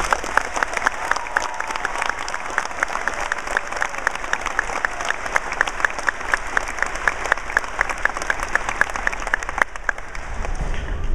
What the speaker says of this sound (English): Please join me in a round of applause for all the dedicated Oshkosh North staff.